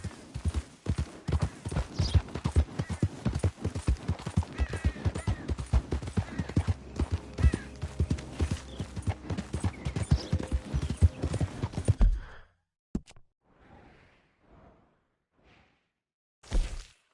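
Horse hooves gallop in a fast, dense clip-clop rhythm in Red Dead Redemption 2, loud and close, cutting off abruptly after about twelve seconds, followed by a few faint scattered knocks and a brief late thump.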